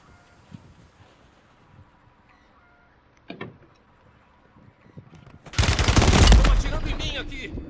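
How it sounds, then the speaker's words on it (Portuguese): A burst of loud rapid gunfire erupts in the Call of Duty video game after a stretch of quiet game sounds with a few isolated pops, the firing continuing to the end. "Estão atirando em mim aqui."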